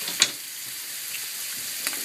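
Bacon seasoned with jalapeno seasoning sizzles in a pan as a soft, even hiss, with two brief louder pops or utensil taps breaking through.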